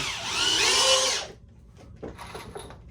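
A power drill drives a screw into wood while building a target stand, one loud sustained whine for about a second that ramps down, followed by quieter handling knocks close by.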